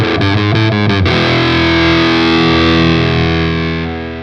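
A Sire L3 electric guitar with P90 pickups plays a distorted tone: a quick run of picked notes, then one loud chord left ringing and slowly fading, with no talking.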